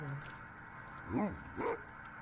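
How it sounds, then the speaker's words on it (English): A dog in a Minecraft-style video game gives two short barks about half a second apart, heard over a steady background hum with no talking. "Damn, there's a dog."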